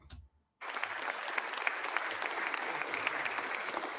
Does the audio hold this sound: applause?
yes